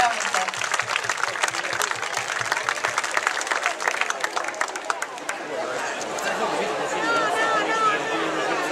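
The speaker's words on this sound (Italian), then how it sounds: "io vi chiederei un applauso" Festival crowd at a votive float celebration applauding, a dense wash of clapping mixed with crowd chatter and voices, steady and fairly loud, with the texture shifting toward murmuring hubbub near the end.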